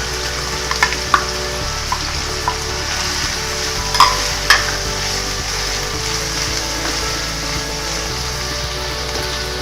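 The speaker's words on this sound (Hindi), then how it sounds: "इसका सिर्फ कच्चापन दूर करने के लिए हमने इसको फ्राई करना है, वरना ये हार्ड हो जाएंगे।" Chopped capsicum stir-fried in a pan for cheese corn snacks gives a steady close sizzle, with a few sharp scrapes and clinks of a spoon against the pan.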